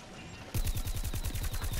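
Rapid automatic gunfire in Plants vs. Zombies Garden Warfare 2 bursts in after a brief quiet start, a steady rhythmic stream of close, punchy shots continuing to the end.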